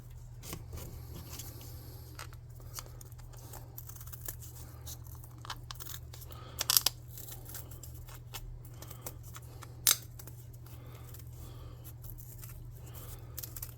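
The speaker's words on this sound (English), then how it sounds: "I'll use scissors first and see how that works." Quiet snipping and tearing of tape cut with scissors over a constant low hum, with a couple of sharper cuts standing out midway.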